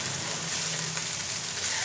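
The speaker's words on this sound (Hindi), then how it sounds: "अब सारी सब्जियों को भी फ्राई करेंगे, बस हमने फ्राई करना है।" Mixed vegetables with cabbage frying in a pan, a loud unbroken hiss of sizzling oil close up with no talk.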